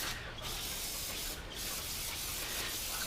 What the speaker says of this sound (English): We also like to spray into the main cap bolt holes.